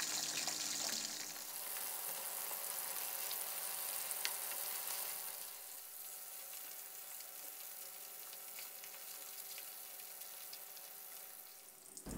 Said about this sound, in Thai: ใส่ปลานิลลงไปทอดกรอบเลยครับ